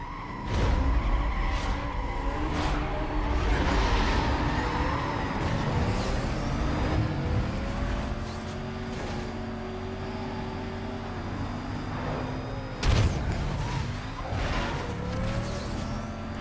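Porsche Cayman racing in Need for Speed: Most Wanted (2005, PS2), its engine droning steadily at low revs with rising and falling pitch sweeps as it shifts, plus a few sharp tyre or impact bursts, loud and close throughout.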